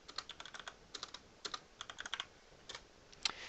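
Quick bursts of typing on a computer keyboard, crisp close key clicks in short irregular runs with brief pauses between, alone and fairly quiet.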